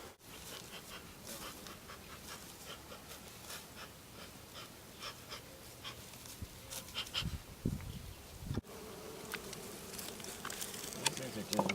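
Honey bees hum densely around an active, well-populated beehive, a close and continuous buzzing with individual insects darting past the microphone.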